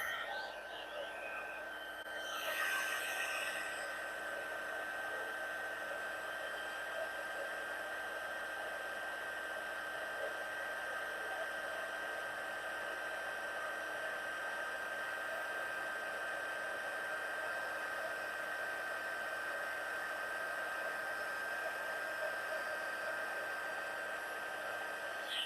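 A heat tool blows a steady, even whooshing hum while drying Distress Spritz on handmade cards, holding constant throughout after a brief rustle at the start.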